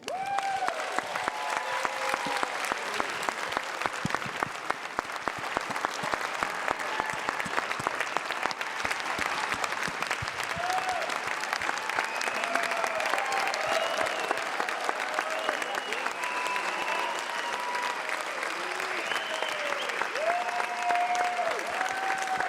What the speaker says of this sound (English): please give a big round of applause for the guy that started it all, Brian Wilson